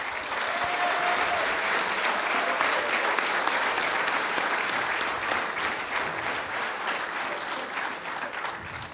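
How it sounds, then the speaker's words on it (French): A hall audience at a flour mill's anniversary celebration gives a long, dense round of applause that stays strong throughout and eases slightly toward the end, with no speech over it. "Et je vous demande de l'applaudir bien fort."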